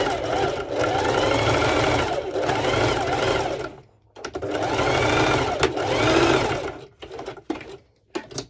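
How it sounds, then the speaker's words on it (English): A sewing machine runs a straight stitch along a leggings strap, whirring steadily in two long bursts, then a short pause and a few brief stuttering runs at the end, close and clear. "I will be doing a straight stitch underneath"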